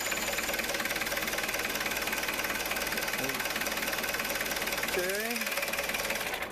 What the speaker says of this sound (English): we are going to start the forklift